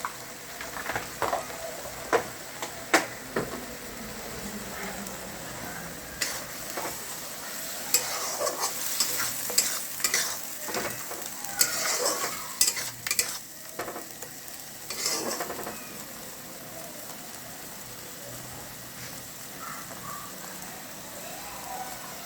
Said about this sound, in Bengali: তিন চার মিনিট ধরে কষিয়ে নিলাম